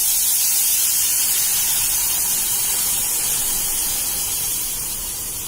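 Hot milk poured into pan-roasted semolina for sheera, a loud steady hissing sizzle that runs without a break and fades slightly at the end.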